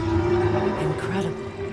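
A long, resonant whale song from the God of War Ragnarok video game swells and wavers in low sustained tones with rising and falling calls, steady and fairly loud.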